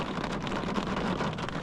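Steady rain falling outdoors at a coastal bivouac spot in the Var, a dense continuous patter with no voices.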